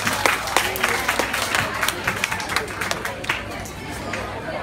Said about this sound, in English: Lastly, a big round of applause for Oscar again.